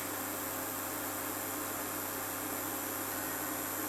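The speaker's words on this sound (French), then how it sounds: "vous entendez le bruit que font les pales du ventilateur en plastique" A steady, even whirring hum of the plastic-bladed cooling fan of a Naélia CGF-06101-NAE double induction hob running continuously, fairly quiet with a constant airy hiss.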